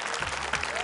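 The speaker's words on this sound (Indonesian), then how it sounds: "tepuk tangan sekali lagi untuk Fatma" A studio audience on the Qori Indonesia Qur'an recitation competition semifinal gives a brief burst of clapping for contestant Fatma, dense and close.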